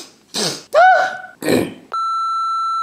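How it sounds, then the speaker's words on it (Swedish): An alarm clock gives a single sustained electronic beep, loud and close. It follows a few groaning, throat-clearing vocal noises in an otherwise quiet room. "Jag har en sån här snorklocka vid det."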